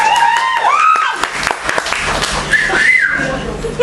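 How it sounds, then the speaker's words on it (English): An audience applauds to welcome Alan Padgett at a performance night, with sharp whistles rising and falling above the steady clapping for a few seconds. "A bit more applause, please."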